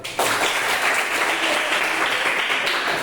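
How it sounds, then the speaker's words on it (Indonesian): Classroom applause in an Indonesian school lesson, a sudden full burst of clapping from the group that stays dense and steady for about three seconds without a break. "sekali lagi tepuk tangan"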